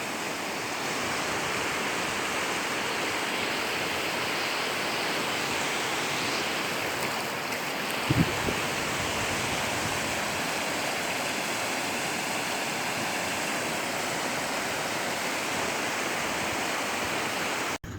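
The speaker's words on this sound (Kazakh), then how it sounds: "Талдықұдық ауылы арнада су толып өтіп жатыр. Қатты кетіп жатыр арысқа қарай." Floodwater rushes through a channel at Taldykuduk village in Turkistan region, heading toward the Arys, in February 2023. The roar is steady and loud, broadband and unbroken for the whole stretch, with no voices.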